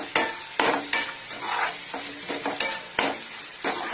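Chana masala gravy frying in oil in a pan: a continuous sizzle with sharp, regular spatula knocks and scrapes roughly every half second, close and fairly loud, no talking.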